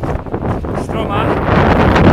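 Wind buffets an outdoor microphone on a steep mountain climb, a steady broadband rush that swells slightly toward the end, with a voice talking underneath throughout.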